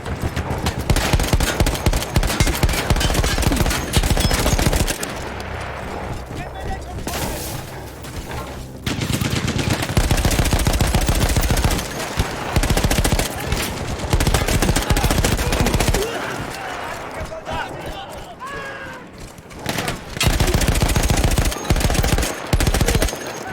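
Heavy mounted machine gun fire in Battlefield 1, a World War I shooter with Austro-Hungarian troops, rattling in loud sustained bursts with short pauses between volleys, close and dominant throughout.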